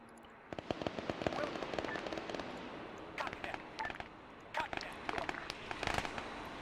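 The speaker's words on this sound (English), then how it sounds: "And they're shooting at him." Scattered bursts of gunfire from the video game Arma 3, sharp cracks and short rapid volleys at a moderate distance, with quiet gaps in between and faint background chatter.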